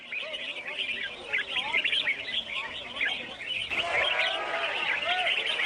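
Exotic birds, captured in the rainforest, sing and chirp continuously at a Thai bird market during a singing competition, many overlapping warbles and tweets at moderate distance with a busy crowd murmur underneath.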